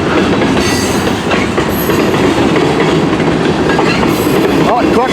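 A CN freight train rumbles past at a road crossing in Port Huron, Michigan, loud and close with steady clattering wheels and a brief rising wheel squeal near the end.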